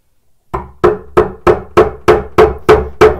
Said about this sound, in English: Tap it down.